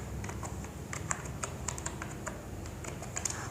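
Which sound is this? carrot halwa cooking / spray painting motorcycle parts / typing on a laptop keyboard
typing on a laptop keyboard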